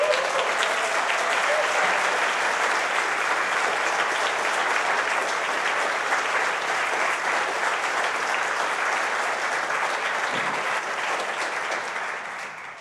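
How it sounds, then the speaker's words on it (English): Loud sustained applause from a standing conference audience fills the room, a dense continuous roar of clapping that holds steady and fades slightly at the end. "Stand up, give them a standing ovation."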